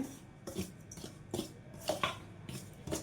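Ragi flour dough being mixed by hand with coconut powder and sesame, a run of soft, rhythmic rubbing and rasping strokes repeating about every half second, close and fairly quiet.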